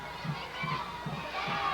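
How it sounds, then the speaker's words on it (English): Crowd noise from fans at a high school football game between the Effingham Rebels and Bradwell Tigers, a steady distant roar and chatter with faint repeated thumps underneath. "There's an awful lot of fan noise right now."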